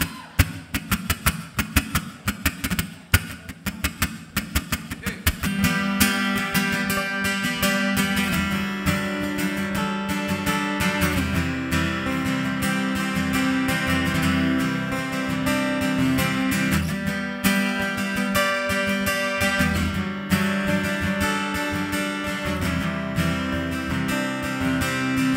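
A live band performs a song on a TV show, full and loud throughout with dense drums and instruments building after a sparser opening, no talking.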